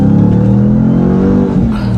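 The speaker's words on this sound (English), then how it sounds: "it greets you with probably the most pleasant sounding V8 rumble you've ever heard" A 2021 RAM TRX pickup's supercharged Hemi V8 revs loud and close, a deep continuous rumble with a rising, wavering engine tone that dips slightly near the end.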